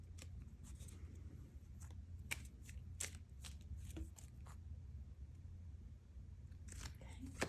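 Love oracle and tarot cards are shuffled by hand at close range. The shuffle comes as a rapid series of crisp riffling snaps and flicks over a low background hum, with a voice speaking faintly.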